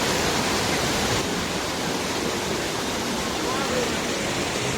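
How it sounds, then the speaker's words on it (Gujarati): The Nahaniya waterfall flowing, a steady close hiss of rushing water with no breaks, slightly louder at the start. "આ છે અમારે 2023 વોટરફોલે આવેલું પાણી"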